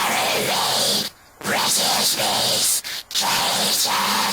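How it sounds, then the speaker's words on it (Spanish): A voice run through a heavy Crush distortion plugin roars as a harsh, saturated wall of noise, loud and sustained with brief cut-outs between phrases, in an aggrotech electro-industrial style. "Así suena la voz con distorsión."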